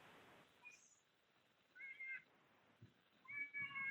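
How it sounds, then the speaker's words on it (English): Faint bird chirps come in short, sparse bursts by the water on a pier near the Bay Bridge, set against a quiet, low outdoor background. "Oh, I hear the birds."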